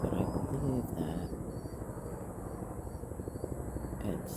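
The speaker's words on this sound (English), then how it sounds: "there's a helicopter flying overhead" A helicopter flies overhead, its steady rotor throb and broad rumble continuing loudly throughout.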